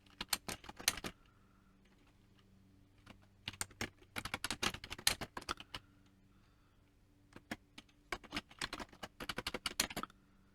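Computer keyboard typing comes in quick bursts of close, crisp key clicks separated by short pauses, with no voice over it.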